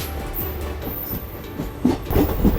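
The Sealdah–Silchar Kanchanjungha Express rolls through Khana Junction with a steady rumble and rattle, joined near the end by louder clickety-clack wheel beats over points.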